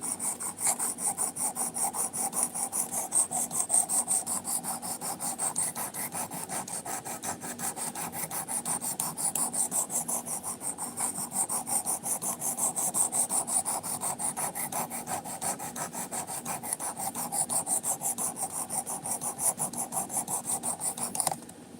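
Knife blade being sharpened on a 220 grit whetstone, a close, continuous rhythmic scraping rasp of quick, even strokes that goes on without a break.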